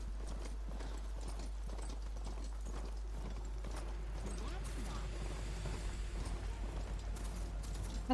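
Steady clip-clop of horse hooves in Horizon Forbidden West in a rhythmic gait under a constant low hum, with faint talk in the background.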